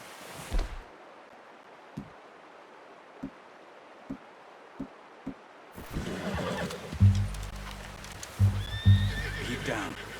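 A horse in the video game Red Dead Redemption 2 gives a whinny at the start, then a few sparse, close hoof clops. Louder snorting and neighing follow amid outdoor ambience.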